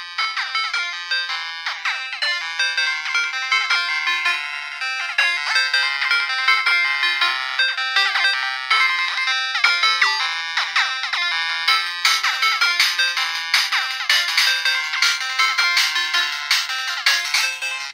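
A channel trailer, a bright, busy tune with quick repeated notes, plays loud and continuous through the small onboard speaker of an AGPTEK T06S Android MP3 player, thin and tinny with almost no bass.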